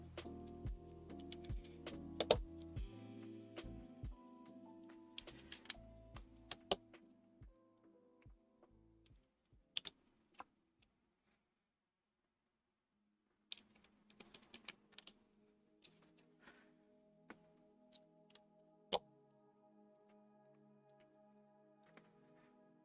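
Keys clack on a Laneware LW-67 aluminum mechanical keyboard, first as quick bursts of typing, then a pause of near silence, then sparser individual keystrokes. The clicks are crisp, close and fairly quiet, with no voices.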